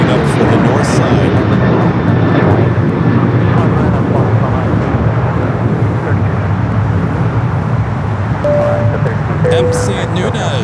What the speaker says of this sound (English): A320neo heading here for a south side takeoff